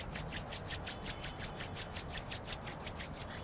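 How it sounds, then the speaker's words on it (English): Hands rub together briskly to warm up during a yoga session, a soft, steady, rhythmic swishing friction repeating several times a second, close and quiet with no talk. "Rub your hands together. Make them warm."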